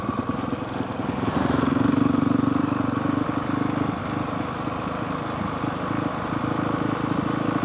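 A motorcycle being ridden on a mountain canyon road, its engine droning steadily and loud throughout with a brief rise in revs early on, plus wind rush.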